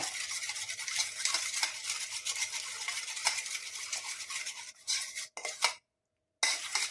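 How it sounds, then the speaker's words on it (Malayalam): A spoon mixes a turmeric and aloe vera paste in a small bowl with steady, close, wet scraping and rubbing, then a brief pause and near-silence before the scraping returns. "മഞ്ഞളും നമ്മുടെ കറ്റാർവാഴയും കൂടി ഒരുമിച്ച് ഇതുപോലെ മിക്സ് ചെയ്തെടുക്കണം"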